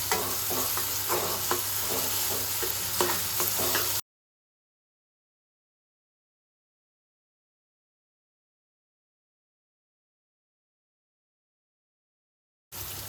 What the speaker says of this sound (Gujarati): ત્યાં સુધી થોડી વાર મીડિયમ ગેસ પર આપણે હલાવતા રહીશું.